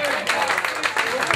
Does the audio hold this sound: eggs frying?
no